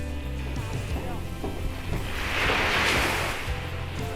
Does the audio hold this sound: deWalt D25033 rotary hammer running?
no